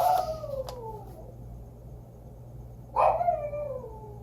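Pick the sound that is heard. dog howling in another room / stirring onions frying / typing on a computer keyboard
dog howling in another room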